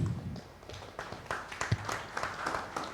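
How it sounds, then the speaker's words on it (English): Scattered, moderately loud applause from a conference audience at a governance and technology event, with individual claps distinct in an uneven rhythm rather than a dense roar. "Ladies and gentlemen, a round of applause"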